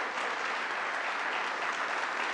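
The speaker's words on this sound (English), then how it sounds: "I want to give us a standing round of applause, standing applause to Linda McNeil" A standing audience at a community center event in Mount Vernon gives Linda McNeil a round of applause, a thick, continuous burst of many hands clapping close and loud, with no voices over it.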